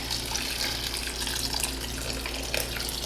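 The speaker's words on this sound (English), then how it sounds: "Just pouring this over the curds." Hot water pours steadily from a kettle over cheese curds (cagliata) in a bowl, a continuous splashing, gushing stream heard up close with no talking.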